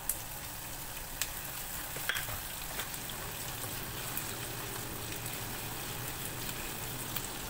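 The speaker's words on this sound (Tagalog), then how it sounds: "Magigisa na ako ngayon." Chicken with soy sauce sizzles and sautés in a pan, a steady crackling fry with occasional small pops and stirring clinks, close and fairly quiet.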